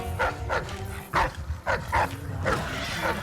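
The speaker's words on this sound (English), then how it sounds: "There's some dogs coming at me." Hostile dogs in the stealth game Dishonored: Death of the Outsider bark and snarl in a run of about six sharp, close barks at uneven intervals, with steady game ambience underneath and no talk.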